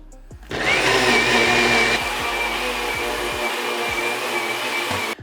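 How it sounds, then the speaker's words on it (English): A countertop blender whirs steadily and loudly for about five seconds as it purees a sauce for a Thai-style vegan smashed cucumber salad. Its motor whines high and shifts pitch slightly before cutting off abruptly. "Our sauce is blended."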